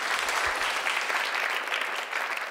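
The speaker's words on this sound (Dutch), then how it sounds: "Een hartelijk applaus" An audience at a lecture applauds warmly, dense and steady clapping filling the room throughout, with no voices standing out.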